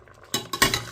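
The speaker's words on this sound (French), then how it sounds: "Je vais aussi retirer de la casserole et réserver ça aussi dans un autre récipient." Metal utensils clink and scrape against a cooking pot as chicken, snails, crab and juice are lifted out of a sauce for placali or fufu: three sharp, close clatters over a quiet background, with no talking.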